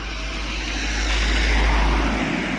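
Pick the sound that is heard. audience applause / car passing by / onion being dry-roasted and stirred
car passing by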